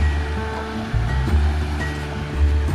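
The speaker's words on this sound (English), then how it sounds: "You can tell a marked difference now in the amount of flow in the North Fork." Steady broadband rush of river water flowing past a low water bridge on the North Fork River, continuous and fairly close with a low rumble underneath and no talking.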